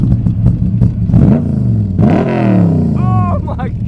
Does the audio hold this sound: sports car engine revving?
yes